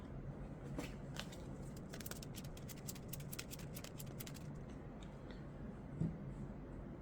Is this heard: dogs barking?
no